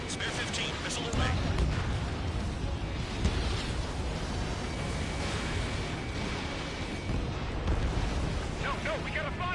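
Missile explosions pound anti-air gun emplacements in the combat flight game Ace Combat 7, a dense roar of rumbling blasts and crackling debris under radio chatter and engine noise.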